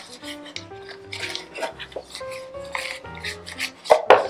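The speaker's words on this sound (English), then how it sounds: "Here are those 2 butter wrappers from before. I'm going to actually use these to just grease my pan." Butter wrappers rubbed against a loaf pan to grease it: short scraping, rasping strokes in an irregular rhythm with small metallic knocks, close up and quiet, no talking.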